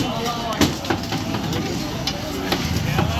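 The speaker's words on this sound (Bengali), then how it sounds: "এখানে স্পেশাল চিকেন চাপ ভাজা হচ্ছে।" Special chicken chaap fries in a restaurant kitchen at a biryani and kebab house, a steady loud sizzle broken by several sharp metallic taps of a utensil against the pan.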